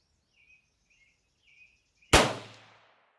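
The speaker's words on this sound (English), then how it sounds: "I'm going to shoot for the target on the left, the orange target." A single sharp .22 Hornet rifle shot fired at an orange target outdoors, loud and close with a short decaying tail, preceded by faint birdsong.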